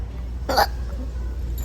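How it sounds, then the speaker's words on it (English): A small child hiccups once, a short sharp burst standing out over a steady low hum with no talking around it. "got the hiccups"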